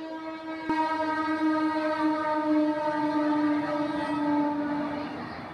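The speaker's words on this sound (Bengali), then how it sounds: "এই দেখো ট্রেন যাচ্ছে, ওই জন্যই এত ট্রেনের আওয়াজ হয়" A loud, sustained train horn blares right after a sharp onset, holding a steady tone while the rumble of the passing train continues underneath.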